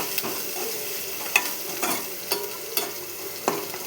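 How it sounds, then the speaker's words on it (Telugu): Ginger fries in a pan with a continuous close sizzle, broken by periodic scraping stirs every half second or so, alone without talk. "ఇది పచ్చి వాసన పోయేదాకా వేయించుకోవాలి"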